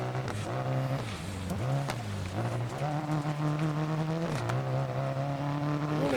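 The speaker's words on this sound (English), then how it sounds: "you can hear the engine having some issues. I think we might have dropped a cylinder" A rally car in the game DIRT Rally, its engine running rough as if a cylinder has dropped, droning steadily near and loud with repeated dips and rises in revs.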